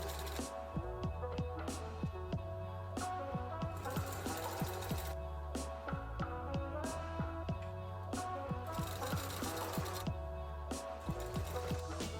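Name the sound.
sewing machine stitching elastic between fabric layers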